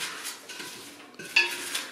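Paper entry cards stirred and shuffled in a pot for a prize draw, giving a soft, continuous rustling and scraping with a brief sharper clink near the end.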